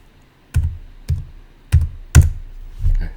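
Keystrokes on a computer keyboard while entering dimensions in AutoCAD: five distinct, fairly loud taps spaced about half a second apart, close to the microphone in a quiet room.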